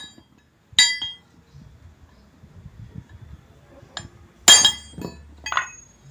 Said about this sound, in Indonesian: kita akan memulai memberikan tanda dengan drip